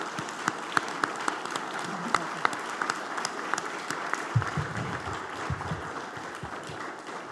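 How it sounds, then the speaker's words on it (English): An audience at a city council election forum applauds with steady, dense clapping that keeps an even loudness throughout, with a faint murmur underneath. "So now join me in applauding and thanking them for coming."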